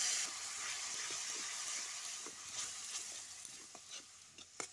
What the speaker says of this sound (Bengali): তারপর খুব ভালোভাবে কষবো।